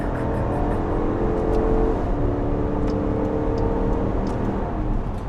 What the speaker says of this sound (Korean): 속도를 좀 빼고 가속하면서 램프업을 한번 해봅시다